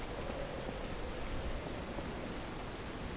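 A waterfall in the video game Lies of P roars as a steady, dense broadband rush of falling water, continuous and fairly loud throughout with no talk.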